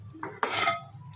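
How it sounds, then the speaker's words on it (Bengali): A new frying pan is handled in a home kitchen, giving a couple of short metallic knocks and a brief scraping clatter close by. "এই হচ্ছে নতুন ফ্রাই প্যান আজকে ইউজ করব।"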